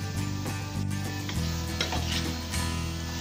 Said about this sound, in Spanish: Ya que integramos el chile y la cebolla y movimos por un par de minutos